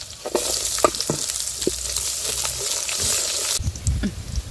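Curry leaves, garlic, dried red chilies and onion fry in hot oil in a pan for pepper saaru, giving a close, continuous crackling sizzle with spitting pops and the clatter of stirring near the end, and no voices.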